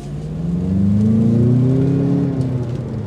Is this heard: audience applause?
no